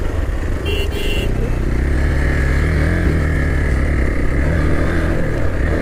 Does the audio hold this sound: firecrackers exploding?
no